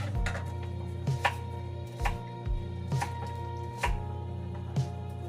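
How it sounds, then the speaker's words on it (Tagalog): Onion sliced with a knife on a board while cooking nilagang baka, giving about six evenly spaced cutting thumps over a low steady background hum, close and without talk. "ganun lang ang pagka-slice ng sibuyas"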